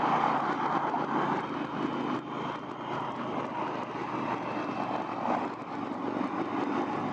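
Indian Challenger bagger motorcycle cruising on the road under cruise control, a steady loud broadband drone of engine and wind noise throughout with no voices.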